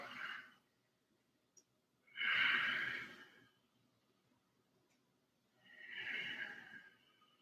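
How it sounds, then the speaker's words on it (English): Slow, audible ujjayi pranayama breaths during an Ashtanga yoga flow, three long oceanic hisses rising and fading with quiet gaps between them, close and clear with no talking. "can you hear the breath? Ujjayi pranayama, one more like that."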